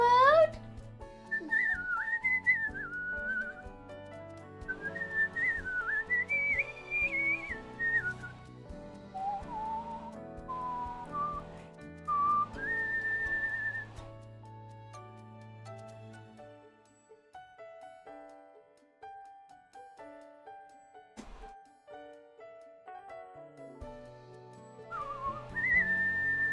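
A person whistles a wandering melody for nearly half a minute, clear sustained notes with slides and pauses over soft low background tones, occasionally interrupted by a brief clatter.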